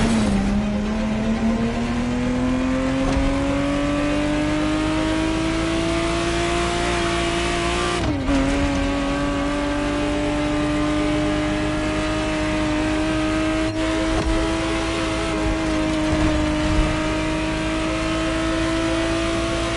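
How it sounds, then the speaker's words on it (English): A 1991 Ferrari Testarossa's flat-twelve engine revs steadily in the racing game The Crew Motorfest, pitch climbing under load, dipping briefly at a gear change, then holding a high sustained drone. "the exact model Motorfest has put in your hands is the 1991 re-engineered version of the Testarossa"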